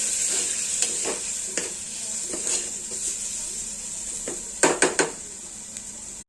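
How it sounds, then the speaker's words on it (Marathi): Tomato and vegetables with dry spices sauté in a pan for a ridge gourd dish, giving a steady, fairly loud sizzling hiss. Spatula scrapes are scattered through it, and a quick cluster of stirring knocks comes near the end. "सर्व सुके मसाले टाकूया, त्याला पण परतून घेऊया"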